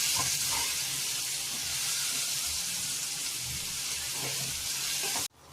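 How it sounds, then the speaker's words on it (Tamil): Onion and garlic sautéing in a pan for a bitter gourd curry, with a loud, steady hissing sizzle close up, a few soft stirring knocks, and an abrupt stop at the end. "பூண்டு சேர்த்து நல்லா வதக்கிக்கலாம். வெங்காயம் நல்லா வதங்கி வரட்டும்"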